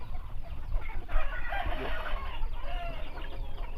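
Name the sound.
chickens clucking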